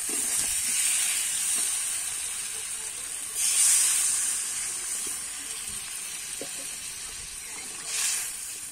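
Water poured into a pan of fried, spiced silver carp curry with potato and taro sets off a continuous loud sizzling hiss that swells twice, heard up close with no talking.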